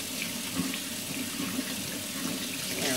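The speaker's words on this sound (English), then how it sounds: "we're going to wash it off" Running tap water rinsing soap off an Ikelite 8-inch acrylic dome port, a steady close hiss and splash continuing without break over about three seconds.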